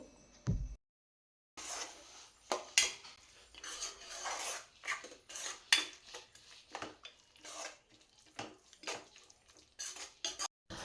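A spoon scrapes and clinks in a pan as masala is stirred and fried on low flame, giving intermittent close scratching and tapping strokes with a short silent gap near the start.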